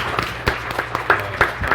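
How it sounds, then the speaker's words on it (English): A conference general-session crowd claps for a former intern, a short burst of scattered applause heard at moderate distance. "give her a round of applause, everyone, for me"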